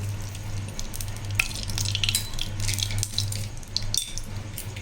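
Oil goes into a pan over low heat while making rasam podi, producing a continuous close sizzle with scattered spatter and clinks, plus a low steady hum underneath.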